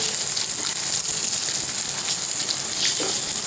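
Eggs frying on a slow flame for egg biryani, a dense, steady sizzling hiss with small pops throughout, fairly loud and with no voices.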